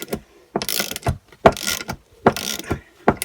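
A large socket ratchet works on an engine bolt of a 1963 Lambretta LI125 Series 3 scooter on a bench, giving loud, close bursts of ratcheting clicks in short strokes separated by brief pauses.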